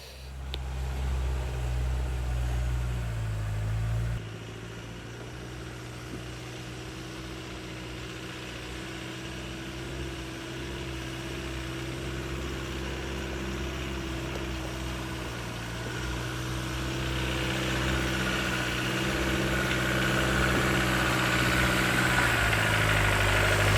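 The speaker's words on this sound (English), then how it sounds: "The TDI is making it look and sound a little bit too easy." Diesel TDI engine of an off-road vehicle climbing a slippery wet mountain track with diff lock, a steady low drone and rumble that is louder at the start, dips, then builds gradually as it labours uphill.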